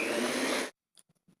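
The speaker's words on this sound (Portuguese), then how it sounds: "Vou ligar a batedeira na velocidade máxima e deixar bater por mais ou menos uns 3 minutos" An electric stand mixer beats eggs and sugar at maximum speed, a loud steady whirring roar that cuts off after less than a second, followed by a few faint soft knocks.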